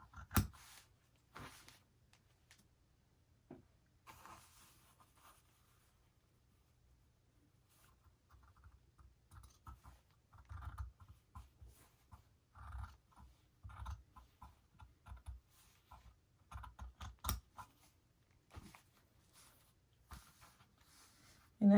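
Scissors snipping through felt for a handmade birthday gnome, a run of faint, close, irregular cuts and rustles that grow busier partway through, with no talking.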